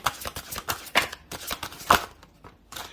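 A tarot deck being shuffled: a run of quick riffling bursts and soft slaps of the deck, close and crisp, with brief pauses between passes.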